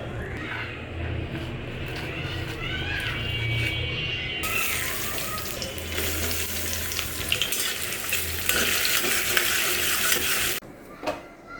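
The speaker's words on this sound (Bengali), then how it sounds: "মনে হয় অনেক বছর পরে একটা নাড়া দিলাম ভাতে" Rice being stirred in a cooking pot, scraping and stirring noises over a hiss of hot cooking, loud and close, with a sudden brighter surge of sizzle midway.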